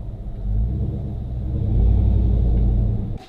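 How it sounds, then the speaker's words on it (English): Steady low rumble from a lowered 2008 Chevy Tahoe rolling along as its fender liner scrubs the tire, a droning rub that swells and fades over a few seconds. "here's that fender liner scrubbing"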